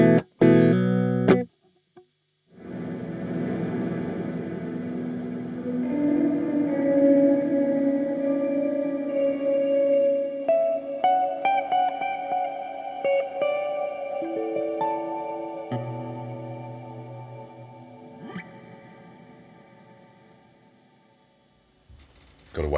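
Fully wet reverb from a Dreadbox Darkness pedal: sustained, washy synth-like tones with long, blooming tails and shifting pitches. They swell and decay in one continuous ambient wash with no dry signal.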